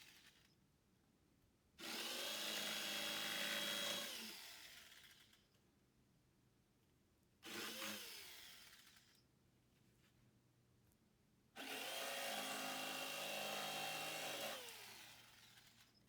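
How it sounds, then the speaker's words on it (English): Jigsaw cutting wood pieces for a homemade cat tree, three loud buzzing bursts of about two, one and three seconds, separated by quiet pauses. "now I'm going to cut them with the jigsaw"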